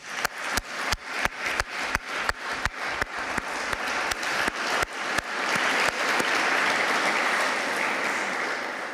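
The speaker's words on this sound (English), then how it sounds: "I think we should at least symbolically applaud Maria and her courage here." Applause at an international human rights conference, starting as a few slow, separate, loud claps that quicken and merge into a sustained full round of clapping from the audience.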